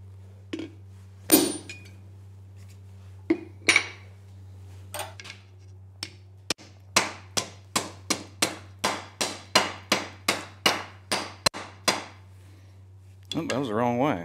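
A forged ladle bowl is hammered into shape, with a handful of scattered blows followed by a steady run of about fifteen ringing metallic strikes, close and loud, ending in a brief burst of other noise.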